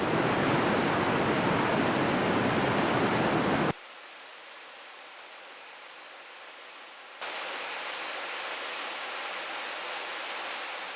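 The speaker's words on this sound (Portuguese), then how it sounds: "É muito interessante essa cachoeira pela beleza do cenário" Três Barras waterfall in Conceição do Mato Dentro, among Atlantic Forest and rocky grassland, gives a steady, dense rush of falling water, heard in three stretches whose loudness shifts abruptly from loud to softer and back.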